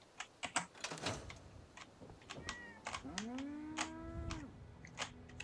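A cat in the game Fallout 4 meows twice in drawn-out, rising then falling cries, quiet and close, amid sharp clicks of computer keyboard typing.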